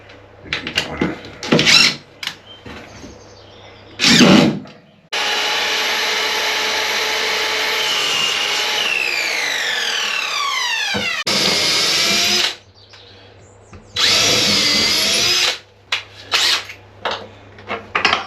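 A power drill whirs loudly and steadily for several seconds, its pitch shifting as it bites, then stops; shorter bursts follow amid bumps and handling noise.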